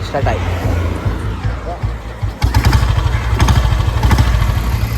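A motorcycle engine cranks and catches partway through, then settles into a loud, steady, throbbing idle close by, with people talking over the outdoor background.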